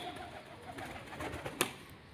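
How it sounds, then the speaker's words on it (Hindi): Pigeons flying overhead outdoors, faint coos over a soft background hum, with one sharp wing clap or flutter near the end. "ये सारे कबूतर ऊपर उड़ रहे हैं"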